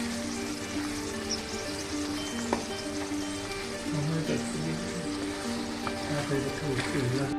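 Green grape pickle with asafoetida sizzles steadily in a pan while it is stirred, with a constant frying crackle and a few soft scraping clinks of the spoon.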